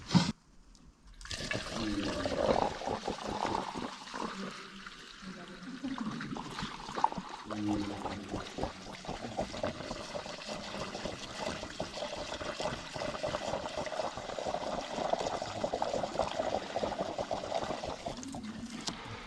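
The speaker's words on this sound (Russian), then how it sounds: "Капает." Liquid from a Wekman fire extinguisher filled for graffiti tagging trickles and dribbles steadily, a close wet patter lasting most of the time, with people talking quietly nearby.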